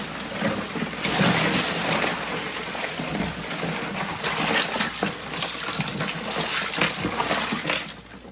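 Hands are washed with soap and water under a running tap, a steady rushing stream with splashes and rubbing that stays close and fairly loud throughout.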